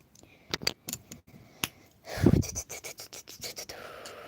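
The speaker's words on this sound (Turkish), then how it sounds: "Tamam Yağmur Melis de yazıyoruz hemen" Quick scratchy strokes of a pen on paper, close up, in short bursts and a longer scribble, with pauses between.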